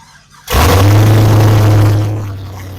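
A 2004 Pontiac GTO engine starts and runs with its serpentine belt off, so no coolant is pumped. It fires up abruptly into a loud, steady, close idle that later eases down slightly.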